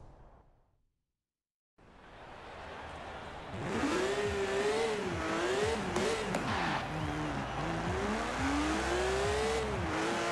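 Race car in the video game Forza Horizon 4: after a moment of silence, an engine starts up and revs loudly, its pitch rising and falling through gear changes as the car drives hard and close.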